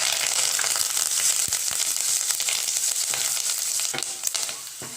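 Hing, green chillies and curry leaves spit and crackle in hot oil, a dense, bright sizzle with sharp pops scattered throughout, close and loud with no talking.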